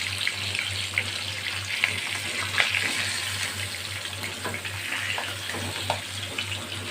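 Oil sizzles and crackles steadily as rohu fish fries lightly in a frying pan, with a low constant hum underneath and occasional scraping clicks, no talking.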